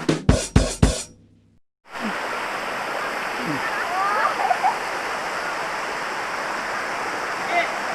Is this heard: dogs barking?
no